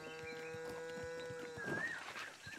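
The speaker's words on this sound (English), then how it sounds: "It is a cow." A cow lowing in the Zelda: Breath of the Wild video game, a single drawn-out call in the middle of faint game ambience with light clicks and steps.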